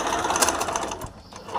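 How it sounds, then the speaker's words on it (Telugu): A sewing machine runs a zigzag stitch in a brief, steady burst, its rapid mechanical clatter close and fairly loud with a slight dip near the end. "ఇప్పుడు జిగ్జాగ్ చేసేసుకుందాం."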